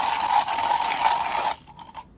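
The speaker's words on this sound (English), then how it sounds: "I finished grinding the beans" Coffee beans crushed in a hand grinder, a steady close ratcheting grind that runs for about a second and a half and then gives way to a few faint, sparse clicks.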